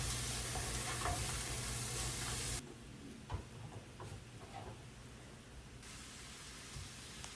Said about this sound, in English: Now I've thrown in the ground beef and I'm just breaking it up with a fork so that it's evenly browned.